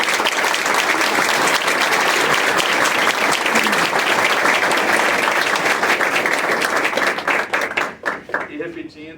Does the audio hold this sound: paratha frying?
no